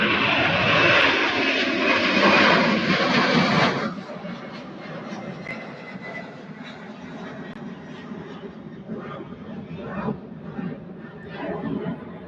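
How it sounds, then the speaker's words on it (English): A Boeing 747 taxis at Louisville airport, a loud engine roar and whine that drops off abruptly, then lower rumbling jet noise with faint voices in the background. "747 is taxiing up"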